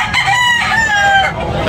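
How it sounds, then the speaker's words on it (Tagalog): A rooster at a market for fighting and breeding birds in Tabunok lets out a loud, close crow, a rising then sustained wavering call lasting over a second, with faint crowd murmur beneath. "Ang gwapong manok, mga kabakerd."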